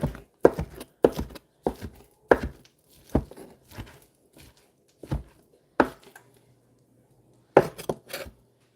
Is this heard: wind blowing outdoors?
no